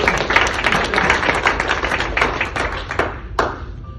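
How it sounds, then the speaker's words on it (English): An audience applauds a newly hired student, with a dense, steady patter of many hands clapping that thins out toward the end. "Clap for him,"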